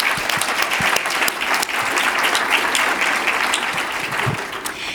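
A luncheon audience gives a warm round of applause, a loud, sustained wash of many hands clapping at once that carries evenly from start to finish.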